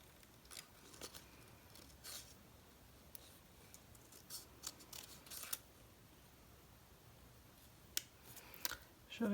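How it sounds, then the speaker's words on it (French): Scissors snip through paper for a Christmas scrapbook page, a few faint, sparse cuts spread across a quiet room, with no talking. "Et du coup, ça va aussi vite de le faire au ciseau."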